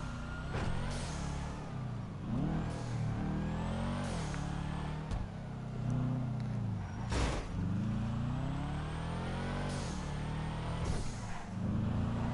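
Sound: car driving and accelerating

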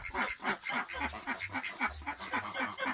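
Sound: geese and ducks honking and quacking

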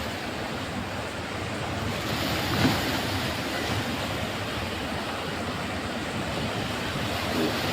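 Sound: sea waves crashing

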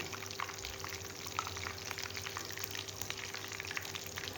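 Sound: frying meat in oil

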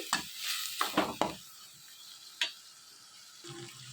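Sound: stirring and cooking vegetables for masala pasta

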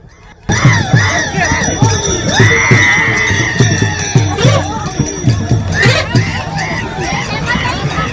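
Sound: crowd of pilgrims cheering on Dive Ghat

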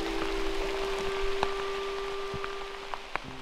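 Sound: rain falling in a high elevation rainforest

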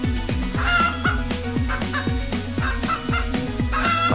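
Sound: chicken clucking

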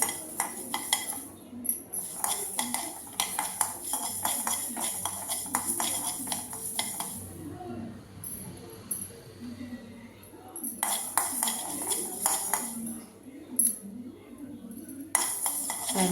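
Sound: roasting spices for mango pickle, stirring in pan

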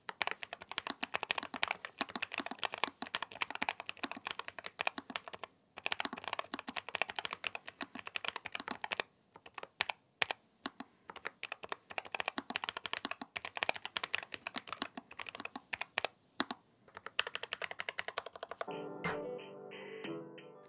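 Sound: low-profile mechanical keyboard typing sound test

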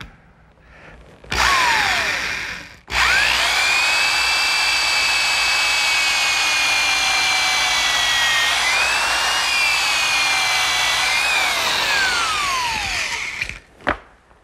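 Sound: drill pre-drilling a hole for a screw

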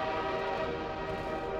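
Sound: train arriving in Half-Life 2 video game

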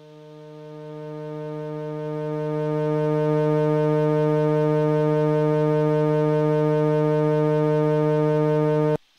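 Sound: analog synthesizer tone from a peak nonlinearity

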